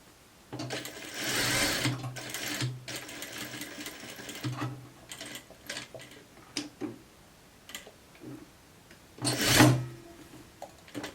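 A sewing machine topstitches fabric in several short running bursts, close and moderately loud, with pauses, small clicks and handling noises between stitches.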